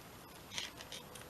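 Scissors snip a small piece of craft material, a couple of quick close-up cuts against a quiet room hiss.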